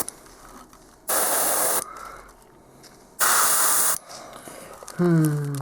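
An airbrush sprays paint onto a model Imperial Guard Chimera tank in two loud, steady hissing bursts of about a second each, with a quieter hiss between them and a brief voice near the end.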